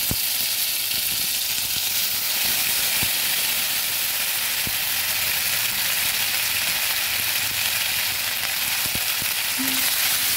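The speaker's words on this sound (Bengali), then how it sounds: "দিয়ে দিচ্ছি আদা বাটা।" Ginger paste frying in oil with whole five-spice seeds in a pan for a vegetarian banana stem curry, giving a steady, close sizzle and hiss that holds evenly throughout with no talking.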